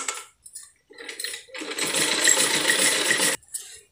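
A sewing machine stitches fabric for a hand fan: a few short starts, then a sustained close whirring run of under two seconds before it stops abruptly, with a small clink at the end.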